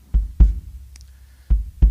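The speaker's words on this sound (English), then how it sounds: "there is one principal part, which we call the kick, that gives the essential beat" Kick drum of a drum kit struck four times, loud and close, in two pairs of low thumping beats with a short faint tap between.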